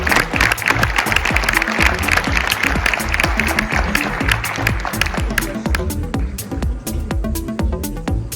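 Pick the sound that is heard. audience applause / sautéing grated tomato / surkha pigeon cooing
audience applause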